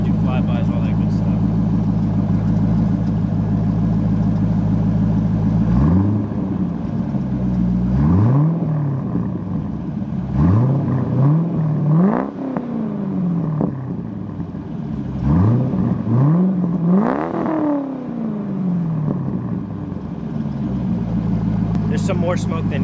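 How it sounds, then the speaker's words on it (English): An idling C5 Corvette engine with a Billy Boat Bullet axle-back exhaust is blipped repeatedly, each rev climbing sharply and falling back, loud and close, with a deep rumbling exhaust between bursts. "So we're gonna give it some revs."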